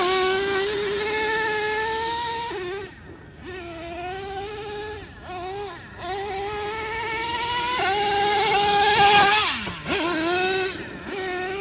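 Traxxas Nitro Revo 3.3 nitro RC car engine screaming with a high, buzzing whine, revving up and down with brief dips and surges throughout, loud and close with no talking.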